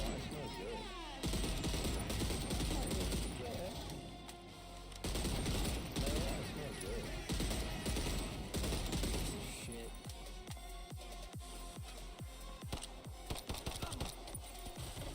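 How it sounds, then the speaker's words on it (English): A video game shootout with sustained bursts of rapid gunfire, then sharper single shots in quick succession. It sounds dense and close in places, and someone talks over parts of it. "Let's shoot around the corner as much as we can."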